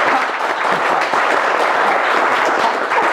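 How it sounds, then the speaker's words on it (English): Studio audience on a Ghanaian TV quiz show breaks into steady, dense applause, loud and close throughout with no pauses. "Round of applause."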